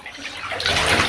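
A jewelled-hair mermaid doll's head dunked into a basin of lukewarm water, a brief close splash and slosh that swells over about a second, with no talk.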